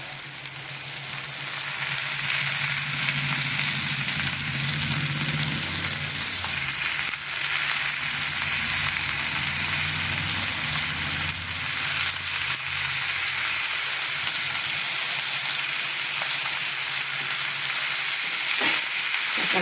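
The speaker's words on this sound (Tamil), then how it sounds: "தக்காளி ஆட் பண்ணிக்கலாம்." Chopped tomatoes frying in hot oil with onions for chicken butter masala, a loud, steady sizzle throughout with occasional stirring scrapes and no talk.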